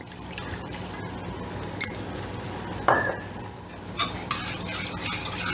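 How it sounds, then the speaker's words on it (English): Tomato sauce with tomato paste and red wine simmers in a pan on medium heat, a soft low crackle with occasional light clinks and stirring knocks; fairly quiet and close, no voices. "I'm just gonna let that simmer while the ground beef browns."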